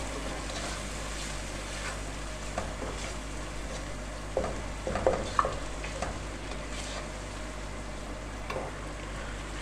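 Salt is mixed into moong dal masala in a pan, with steady stirring scrapes over a constant low frying sizzle and hum, close and without speech.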